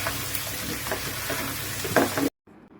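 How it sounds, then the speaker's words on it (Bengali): Hog plums stirred in hot oil with chili powder and coriander powder, giving a close, steady sizzle with soft stirring knocks before everything drops to near silence at the end. "তেলের মধ্যে আমি আমড়াগুলো ভালো করে নাড়াচাড়া করে নিব।"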